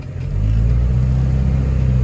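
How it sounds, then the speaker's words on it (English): A Rover P4 car drives steadily along a road after a gear stick repair, its low engine rumble and road noise loud and even throughout, with no talking. "The car's driving way more smoothly"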